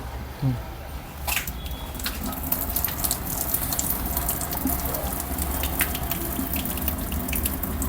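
Water rushes steadily through an instant electric geyser, a Hotstarr model, with a continuous hiss and splashing close by. Small clicks and drips sit on top of the flow.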